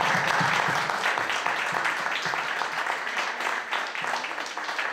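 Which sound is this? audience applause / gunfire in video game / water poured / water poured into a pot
audience applause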